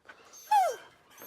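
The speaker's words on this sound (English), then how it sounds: "over here, making all the fuss, this is Ruby" A collie whimpers and fusses in a pen at a goat farm, giving one brief high, falling whine in the middle with faint snuffling sounds before and after, fairly close.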